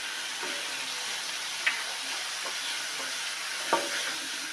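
Tomatoes with turmeric sautéing in a pan for kurma, a steady soft sizzle throughout with a couple of light spoon taps on the pan, close and quiet, no talking.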